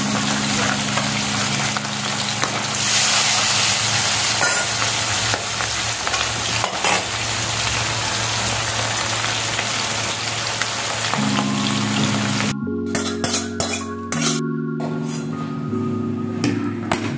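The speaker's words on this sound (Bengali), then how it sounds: "মাছগুলো প্রথমে ভেজে নেওয়া হচ্ছে।" Hilsa fish coated in turmeric and salt fry in a pan with a loud, continuous sizzle, and near the end a few utensil clatters and knocks sound close by.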